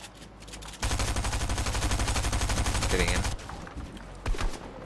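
Rapid automatic gunfire in the video game Fortnite, a loud continuous rattling burst lasting about two and a half seconds, with players talking before and after.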